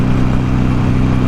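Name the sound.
motorcycle engine at about 100 mph on highway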